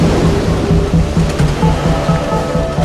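Strong ocean waves churning around a boat near an island, a loud continuous rushing and surging wash of water with engine rumble beneath, no voices heard.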